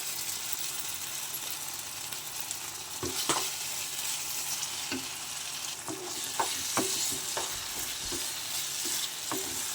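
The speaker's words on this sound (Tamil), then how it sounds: "நல்லா மிக்ஸ் பண்ணிக்குவாங்க ஏலக்காய் பொடி போட்டுக்கிறேன்" Bread halwa sizzles in ghee in a pan while cardamom powder is stirred through, a continuous frying hiss broken by repeated scraping and clinking strokes of the spoon, close and fairly quiet, with no one talking.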